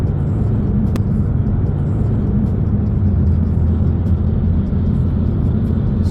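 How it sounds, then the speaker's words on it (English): Inside a car speeding up on a highway near Lower Sackville, Nova Scotia during a driving road test, a loud, steady low engine and road rumble with constant tyre roar and no talking. "So as I accelerate, I don't do it too hard"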